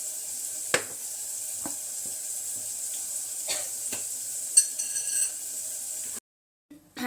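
Food roasting in ghee in a pan sizzles softly and steadily while a spoon scrapes and stirs in several short strokes, then the sound cuts out briefly near the end.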